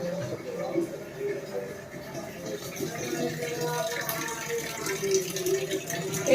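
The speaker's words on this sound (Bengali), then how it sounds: "এখান থেকে ড্রামে ভরে রাখি" Water running from a tap into a drum, a steady continuous splashing and pouring that holds throughout at moderate level, with a voice speaking over it.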